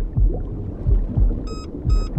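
Two short electronic warning beeps sound underwater in the Bermuda survival crafting video game, arriving close together near the end over a low, rumbling underwater ambience.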